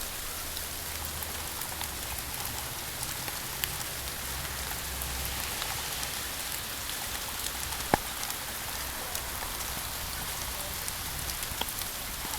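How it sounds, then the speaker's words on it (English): Steady rain falls on wet ground and leaves, a soft, even patter with occasional louder drips, heard alone with no voices. "it's raining, so it's raining for a while now, so the land is wet."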